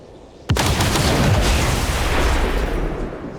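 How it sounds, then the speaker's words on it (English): A Disruptor Rifle shot in XCOM 2, a single sharp loud blast that rings out into a long, rumbling decay with no talking over it. "Specialist Van Dyke can also take aim with the Disruptor Rifle."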